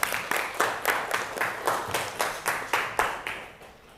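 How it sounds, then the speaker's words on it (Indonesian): Rhythmic unison clapping from a classroom group of students, about a dozen evenly spaced claps at a steady beat, close and clear, tapering off at the end. "Coba sekali lagi tepuk tangan untuk kita semuanya"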